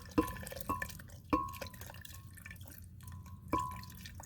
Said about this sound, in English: so you're going to pour the water